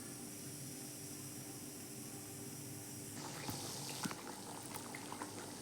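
Manathakkali seed tamarind curry simmering in a pot: steady close bubbling, then louder, with scattered pops and sputters as it thickens.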